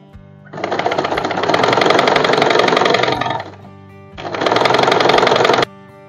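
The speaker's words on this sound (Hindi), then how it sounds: "इस पे स्टिच कर लेंगे।" An Usha Janome sewing machine stitches a fall onto a sari in two sustained whirring bursts: a longer run, a brief pause, then a shorter run. The motor is loud and close, with no voices.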